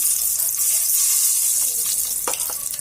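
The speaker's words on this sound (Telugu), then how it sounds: "కాగిన ఆయిల్లో ఆవాలు" Mustard seeds sizzle and crackle in hot oil for a Bendakaya pulusu, a steady close frying hiss with a few sharper pops near the end and no voices.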